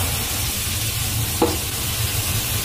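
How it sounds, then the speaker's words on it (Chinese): Fatty lamb stir-fried in a wok with ginger and cumin gives a steady loud sizzle with a single brief scrape or clank of the spatula midway. "然后把肥羊肉先放进去爆炒。"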